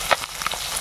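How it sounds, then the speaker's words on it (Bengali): Small native koi fish, caught in a bamboo trap, frying in hot oil in a village kitchen; a brief, soft sizzle with a few faint crackling pops. "মাছ ভাজা হচ্ছে। কই মাছ ভাজার কাজ চলছে।"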